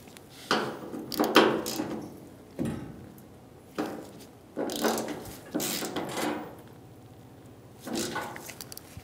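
Bolts on a 1988-1999 GMC K1500 tailgate latch being snugged down with a ratchet: about seven short bursts of clicking and mechanical rattling separated by brief pauses, close up, with no speech.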